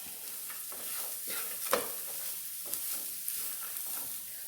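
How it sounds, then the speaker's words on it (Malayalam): Onion and finely chopped carrot sautéing in a pan for rava upma, a soft continuous sizzle with occasional light stirring taps, close and fairly quiet, no speech. "ഇതിലേക്ക് നമുക്ക് 1/2 കപ്പ് ക്യാരറ്റ് ചെറുതായിട്ടരിഞ്ഞതും കൂടി ഇട്ട് കൊടുക്കാം. നല്ലതുപോലെ ഒന്ന് വഴറ്റി കൊടുക്കാം."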